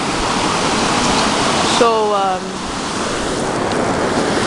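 Steady broadband rush of a waterfall near Nikko, Japan, loud and continuous with wind buffeting the microphone, while a voice speaks briefly over it.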